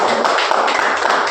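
An audience claps loudly for Sameer sir at a Modicare business event, with a dense, steady wash of applause running throughout and no talking.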